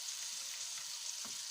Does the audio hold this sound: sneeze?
no